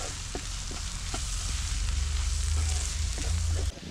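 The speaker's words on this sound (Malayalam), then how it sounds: "ഇനി ഇത് നന്നായിട്ടൊന്ന് വഴറ്റി കൊടുക്കാം" Onions with turmeric powder sautéed in a pan on low flame, giving a dense continuous sizzle with soft periodic stirring taps, close and steady throughout, cutting slightly quieter at the very end.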